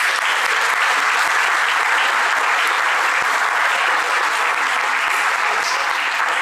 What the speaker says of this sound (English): Please give everyone that's been involved a round of applause.